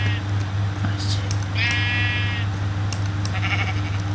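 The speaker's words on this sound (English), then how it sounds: "Oh, hey there, Mr. Sheep. Where are you going?" A sheep in the Minecraft video game bleats in a wavering, buzzy call lasting under a second, over steady game background hum and music.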